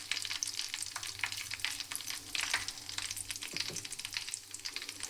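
Fenugreek powder and asafoetida being stirred into hot oil in a pan for a coriander pickle, a steady close sizzle and crackle with soft scraping strokes of a spoon running throughout.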